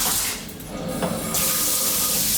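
A shower faucet runs with a steady, close hiss of falling water, briefly dipping before surging back to a full spray.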